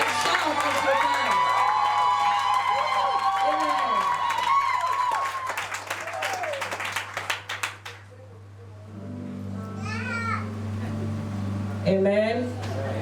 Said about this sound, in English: Please let us celebrate them. Clap and shout as you can.